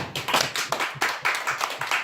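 A church congregation claps in thanks, a steady rhythmic beat of hands clapping together in unison, close and loud, with no talking.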